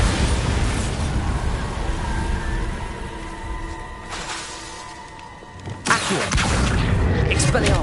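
A Bombarda explosion spell in Hogwarts Legacy on PS5 bursts near the end with a sharp, loud blast following a rumbling, fading boom and ambient hum.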